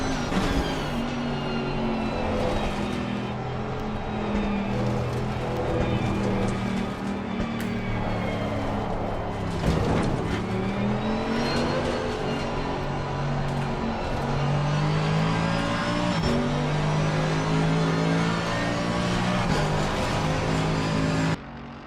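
A race car engine roars continuously in Assetto Corsa Competizione at the Paul Ricard circuit, loud and close, revving up and down through gear changes with whining harmonic sweeps and brief drops as it brakes and accelerates.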